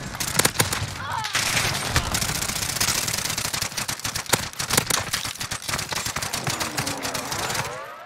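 Akimbo Sykov pistols fire in rapid, dense bursts in Call of Duty, a near-continuous clatter of loud shots with brief gaps and a few sharper cracks, some speech woven in.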